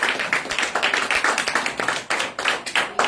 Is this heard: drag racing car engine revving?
no